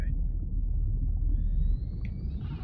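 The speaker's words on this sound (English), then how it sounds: "What was that? An electronic dolphin?" A low rumbling wash fills the clip while a thin, rising electronic whistle glides in partway through, eerie and synthetic like a dolphin call, in the video game Blind Drive.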